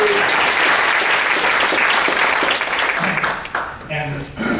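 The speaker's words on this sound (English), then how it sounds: "Big round of applause." Audience at an elementary school gathering applauds presenters, loud dense clapping that thins out near the end as a voice begins speaking.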